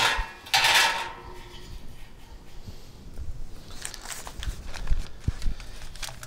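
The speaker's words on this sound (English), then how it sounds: "We'll get our rack back on." A metal rack set back into a PitBarrel Cooker gives a bright clanking rattle of metal on metal near the start, followed by softer scattered clinks and taps.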